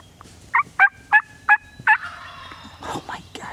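A large wild turkey tom weighing about 23 pounds gobbles in five loud, close, evenly spaced calls, followed by a rustle of wing flapping.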